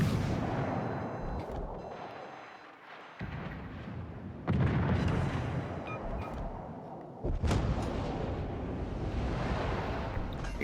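Heavy warship guns fire in World of Warships Legends, several deep booming salvos a few seconds apart, each a loud broadband blast trailing into rumbling decay.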